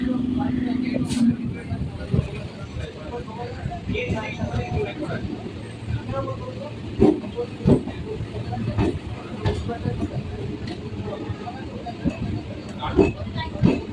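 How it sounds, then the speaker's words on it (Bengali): A local train pulls slowly out of Tala station, a steady low rumble with wheel clatter and scattered clanks, heard close from inside, with people talking throughout. "ট্রেন এখন ধীরে ধীরে টালা স্টেশন ছেড়ে বেরিয়ে যাচ্ছে।"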